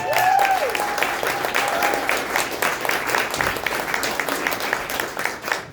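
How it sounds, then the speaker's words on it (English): Comedy club audience at a stand-up show claps and cheers steadily for a comedian, a dense sustained wash of applause with a whoop or whistle near the start, fairly loud and close throughout. "Rousing applause"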